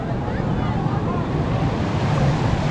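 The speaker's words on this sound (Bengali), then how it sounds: "এত ঢেউ কেন ভাই? দেখ কত ঢেউ।" Ocean surf rolls in at Cox's Bazar beach, a steady broad roar of breaking waves mixed with wind buffeting the microphone, close and fairly loud throughout.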